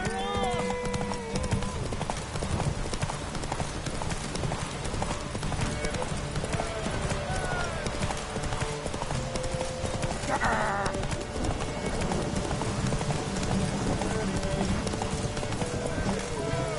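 Roach, a horse in The Witcher 3, gallops with steady rhythmic clip-clop hoofbeats running throughout, close and loud under game music while voices talk over it.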